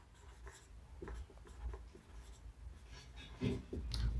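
A pen scratches across paper in short, quiet strokes and taps, writing out kinematics notes by hand in an irregular rhythm with no voices.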